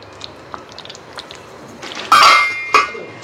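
A metal lid is set onto a cooking pot of chicken, giving a loud clanging clatter followed by a second shorter clink, after quieter faint taps and ticks in a quiet kitchen.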